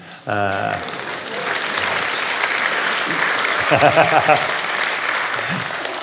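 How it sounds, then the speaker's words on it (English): An audience at a literary festival talk applauds, steady clapping running through the clip while a speaker's voice breaks in briefly near the start and again midway. "I think it's largely women clapping that"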